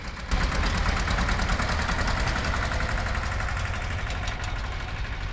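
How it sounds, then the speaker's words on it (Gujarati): A farm tractor engine runs steadily nearby, a low continuous rumble with a faint knocking pulse that holds at an even level throughout, with no talking. "જો આ આપણું બાપુજી ટ્રેક્ટર નીકળું"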